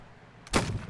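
A single musket shot in Mount & Blade Warband cracks out sharply after a quiet moment, its boom trailing off briefly in a distant outdoor battlefield.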